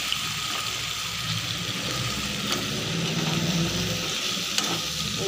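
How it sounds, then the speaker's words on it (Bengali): Chicken curry with ginger-garlic paste sizzles and crackles steadily in hot oil while being stir-fried, a loud, close, continuous hiss with occasional scraping from stirring. "ভালো করে কষাতে হবে"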